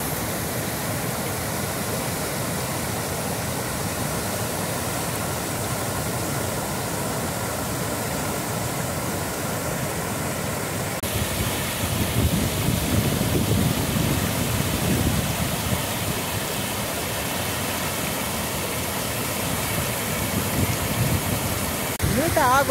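Powerful rushing water at Boqueirão reservoir in Paraíba, Brazil, a loud, dense, continuous roar like a waterfall or spillway torrent, close and unbroken for the whole stretch, swelling slightly midway.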